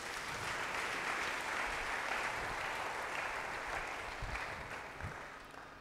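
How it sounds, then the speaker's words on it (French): A church congregation applauds together at a Sunday morning service, a steady wash of clapping that holds at full strength for several seconds before easing slightly toward the end. "Acclamons pour la parole de Dieu."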